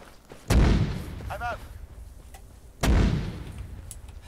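Two heavy artillery impacts land in the Arma 3 military game, each a loud booming blast with a rumbling tail, spaced a couple of seconds apart, with a short radio-like chirp between them.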